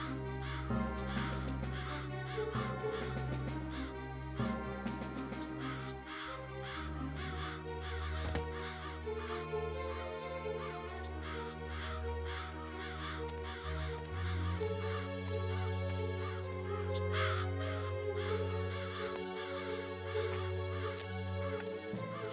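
Crows caw repeatedly in an animated Keloğlan cartoon, with harsh calls recurring throughout over a steady musical score, with no talking.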